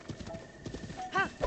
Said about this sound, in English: I can ride those horses too.